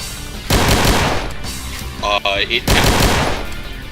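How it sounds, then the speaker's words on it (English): Gunfire from the starting pistol in Final Doomer, a Doom mod video game, comes as rapid, loud bursts of shots with short gaps between them. A brief electronic tone sounds in the middle. "This is my starting pistol."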